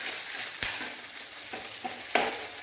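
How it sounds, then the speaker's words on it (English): Spices and red chilli splutter in hot oil with a continuous bright sizzle, broken by a few sharper pops and a stir or two. "So now it is spluttering."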